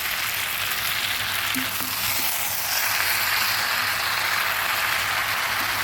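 Chicken and mixed vegetables cooking in a pan give off a loud, steady frying sizzle and hiss close up that runs unbroken throughout, with a few faint clicks and no talking.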